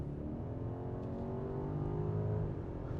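A 2023 BMW 760i accelerating hard: a loud, steady engine drone with a rising pitch runs throughout, close and dense, with no voices.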